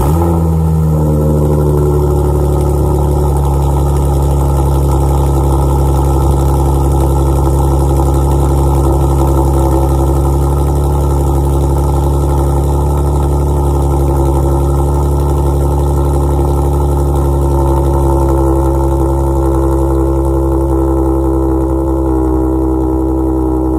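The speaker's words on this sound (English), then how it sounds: "I'll throw a sound clip in for you guys to hear that." Dodge V6 fitted with catless downpipes, a 3-inch X pipe and two resonators, idling loud and close with a steady deep exhaust drone and rich harmonic rumble that holds even throughout, no voices.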